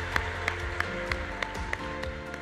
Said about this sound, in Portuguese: Grande salva de palmas.